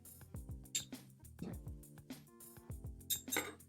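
Frozen lemon cubes clink and knock into a container in a kitchen, several faint hard taps spread across the moment, with low background hum.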